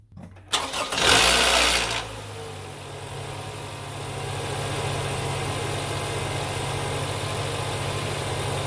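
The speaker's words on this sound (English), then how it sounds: "All we need to do now is start the car up and make sure it does not misfire." A 2011 Toyota RAV4, just fitted with new NGK spark plugs, cranks briefly and catches with a loud burst, then settles into a steady, close idle hum for several seconds.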